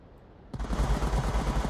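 AK-104 rifle in the VR shooter Onward firing in a 5v5 competitive match, a sudden sharp shot followed by a rapid burst of automatic fire, loud and close.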